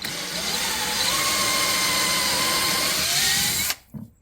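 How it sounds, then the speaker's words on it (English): A power drill bores into a Stratocaster guitar neck: a loud, steady high-pitched whine whose pitch slowly rises, then stops abruptly, followed by brief faint handling noise. "Keeps your drill bit nice and straight going in there."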